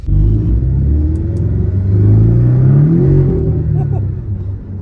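A Porsche Cayman 718 fitted with a K&N panel filter driving on a damp road, a close, loud engine rumble rising and falling as it accelerates through the gears.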